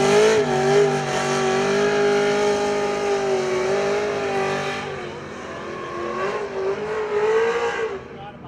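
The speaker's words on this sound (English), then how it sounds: "the event also showed impressive burnout demonstrations and SEMA-themed car shows." A car doing a burnout demonstration at SEMA Fest, its engine howling at high steady revs with a rich, loud drone that dips briefly and then climbs again over several seconds.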